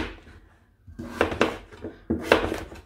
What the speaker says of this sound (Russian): И я нарезаю тыкву